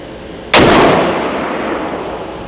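A single sharp, loud shotgun blast from an ATI 3B triple-barrel shotgun, followed by a decaying echoing tail outdoors, with no talking.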